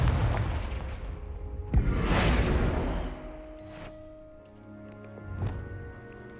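A Confringo explosive spell in Hogwarts Legacy bursts with a sudden whooshing blast and rumbling boom, followed by fading crackle, tonal magical shimmer and a second smaller impact.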